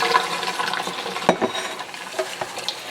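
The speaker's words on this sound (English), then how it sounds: "I'm not going to slosh myself as I pour it over into the cheesecloth" Cheese curds and water poured from a pot into cheesecloth, a soft wet splashing and trickling with a few brief clinks, close and fairly quiet, no talk.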